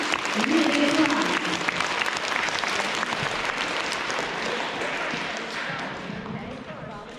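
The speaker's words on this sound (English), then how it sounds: "Let's give them a round of applause, please." An elementary school K-2 awards crowd applauds a family's perfect attendance with sustained clapping that fades slowly, a voice briefly heard at the start.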